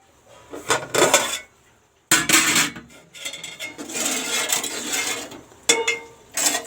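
Pots and utensils clatter in a home kitchen while tempering is prepared for tamarind rasam, with close, loud bursts of metal scraping and knocking separated by brief pauses.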